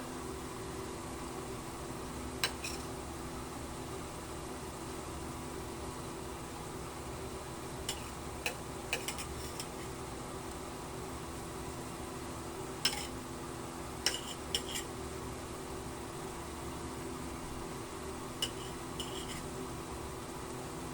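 Sliced hotdog goes into a pan of no-bake macaroni and is stirred, giving a few sparse metal clinks and scrapes of a utensil against the pan over a steady low sizzle and hum, close but quiet, with no talk.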